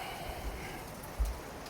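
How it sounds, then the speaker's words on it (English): Steady rain falling in the Blue Mountains of Jamaica at an off-grid tiny house property, a soft continuous patter with a couple of low thuds from heavier drops, no voices. "it's raining"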